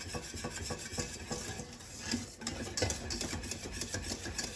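A whisk scrapes and swishes steadily through thickening pastry cream in a saucepan, with continuous rubbing strokes against the pan and no voices.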